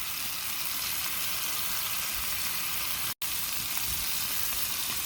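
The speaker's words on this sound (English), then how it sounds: "Let it sit just like that and get that little crust before you start stir frying." Meat stir-frying in sesame oil on a patio, a steady loud crackling sizzle that fills the whole stretch, broken only by a split-second cut, with no talking.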